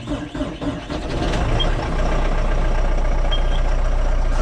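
A diesel engine in snowy farm weather cranking and catching, then settling into a loud, steady, low idling rumble that holds unbroken as it warms up.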